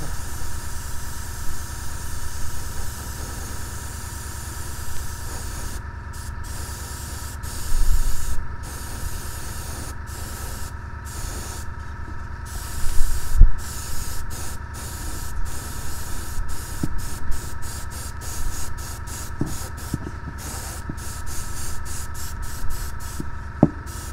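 An airbrush spraying undercoat gives a steady, close, continuous hiss that runs throughout, broken by brief gaps where the spray stops and starts again.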